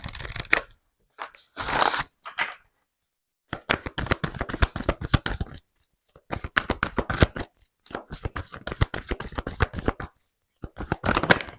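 Tarot cards shuffled by hand in rapid riffling bursts, close and crisp, with short pauses between runs of shuffling and no talking.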